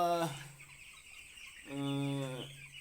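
Broiler chickens on a farm let out two separate drawn-out clucking calls, one brief and one longer, fairly close, with quiet pauses between them and no talking.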